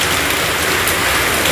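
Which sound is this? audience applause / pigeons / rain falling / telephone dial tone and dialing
rain falling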